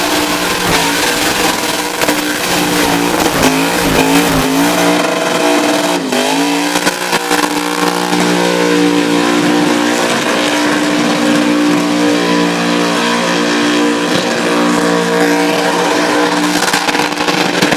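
Car doing a burnout at the Red CentreNATS burnout competition in Australia, a loud sustained engine scream at high revs with wavering pitch and tire noise, continuous for nearly eighteen seconds.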